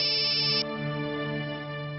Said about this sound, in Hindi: पापा का नाम लिया और उनका फोन भी आ गया।